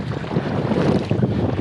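Strong wind buffets the microphone while paddling on a lake, a loud, rough and continuous rush with no voices.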